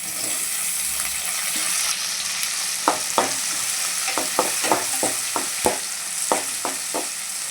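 Onions and tomatoes sizzle steadily in a pan for fish curry, with a spoon repeatedly scraping and stirring in quick, irregular clacks.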